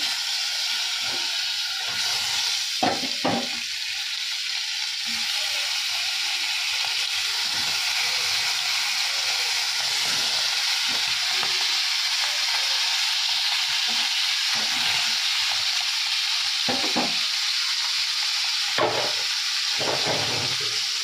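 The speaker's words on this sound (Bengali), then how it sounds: "আর এদিকে আমি মাছ ভাজাটা বসিয়ে দিই" Fish frying in oil in a wok gives off a steady, close hissing sizzle that runs without a break, with a few brief clinks and bursts of crackle and no voices.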